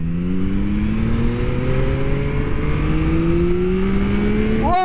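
A 2023 Yamaha MT-09 SP motorcycle accelerates on a freeway through a windy mountain pass, its engine note climbing steadily in pitch over a constant loud roar of wind and road noise.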